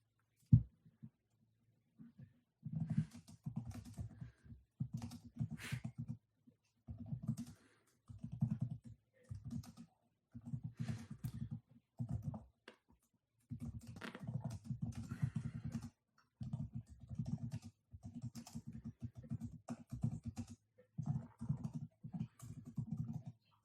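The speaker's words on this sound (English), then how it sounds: "I was typing my little heart out" Quiet, rapid clicking of keys on a computer keyboard in bursts with short pauses, close and soft, with no talking.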